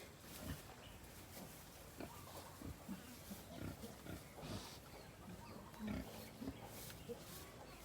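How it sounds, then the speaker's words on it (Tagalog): Piglets of a Pampanga native sow squeal and grunt in a pen, a busy cluster of short close-range calls over steady farm background noise, with faint talk. "Yan po ang kanyang mga biik."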